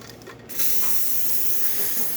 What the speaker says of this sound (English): Steamer for this machine,